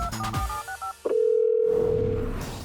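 Cartoon telephone line sounds: a quick run of beeping dial tones, then a click and a long steady tone holding for over a second, loud and alone.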